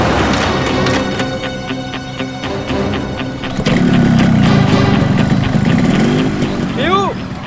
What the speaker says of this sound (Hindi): बाइक स्टार्ट हो गई, जल्दी आओ।